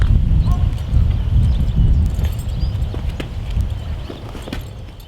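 A pony being saddled shifts its hooves on the ground, giving soft, irregular thuds and scuffs close by over a low rumble, with occasional light clicks of tack.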